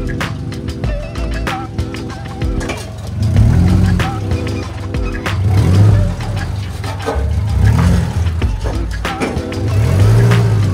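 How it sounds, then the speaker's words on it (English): A car driving along and accelerating, engine swelling in repeated loud rising surges with a steady low drone between them, close by and with no talking. "Alright, just drove the car."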